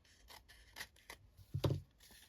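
Scissors make a few faint, quiet snips while cutting down a small piece for a scrappy side-tuck page, with one slightly louder cut near the end.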